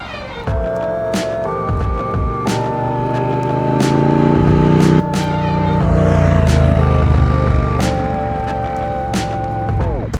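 A Triumph Speed Twin 900 motorcycle holds a steady, droning engine note that shifts pitch in distinct steps as it is ridden, with faint clicks and rumble underneath and no voices.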